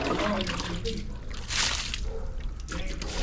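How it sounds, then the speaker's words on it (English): Water poured and splashing onto potted plants outdoors, a continuous hissing trickle that swells into a brighter gush midway, with faint voices in the background. "I want to water these plants"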